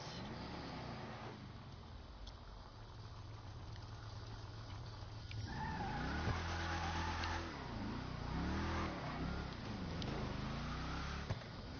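Gauntlet Hellfire muscle car in GTA Online idles, then revs and accelerates with rising and falling engine tones that sweep repeatedly in the second half, loud and up close, with no talking.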